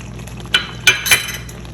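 Spoon stirring garam masala and salt into chicken chole in a pot, a few sharp metallic clinks and scrapes over a low simmering background.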